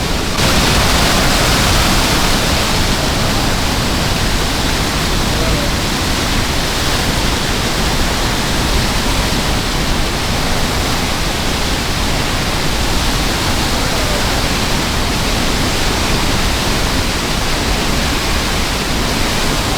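Niagara Falls roaring from behind the falling water, a dense, loud, unbroken wash of noise that stays steady throughout with no voices breaking through.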